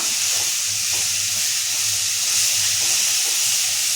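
A mixture for thalipeeth sautés in a pan, giving a constant loud hiss and sizzle with faint stirring scrapes and no talk.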